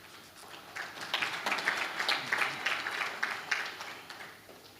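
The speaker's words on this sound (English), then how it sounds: "let's give him a round of applause" An audience at a men's parliament session claps for a councillor, a soft patter that swells into moderate applause and then tapers away, heard at some distance.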